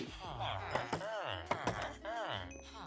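Trees are chopped down in Minecraft, video game, with a series of sharp percussive chops arriving every half second or so under continuous talking.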